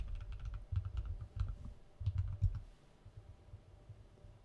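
A password being typed on a computer keyboard during an Ansible run: a quick, close run of crisp key taps in two short bursts, then quieter, with no voices.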